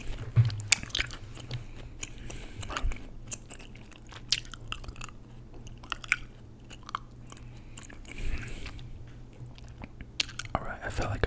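Gum is chewed loudly and quickly close to the mic, with wet smacking and clicking bites repeating in an uneven rhythm for about eleven seconds, with faint breathy sounds between them.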